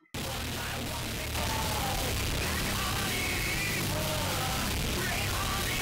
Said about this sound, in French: Out.wav est en fait un fichier son qui va représenter approximativement ce que la calculatrice devrait émettre